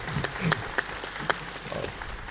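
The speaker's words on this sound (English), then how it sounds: "Let's give him a warm round of applause for that." Audience applause for a successful entrepreneur after his talk at a university book festival in Manipur, a short, patchy burst of clapping with a few sharp louder claps standing out, fairly quiet and thin, as if from a small crowd.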